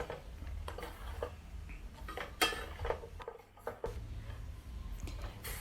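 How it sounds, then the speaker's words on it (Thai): Ridged gourd stir-fried with egg and minced chicken in a pan, with steady clinks and scrapes of a utensil against the pan over a low continuous background. "หลังจากนั้นผัดให้ทุกอย่างเข้ากันค่ะ"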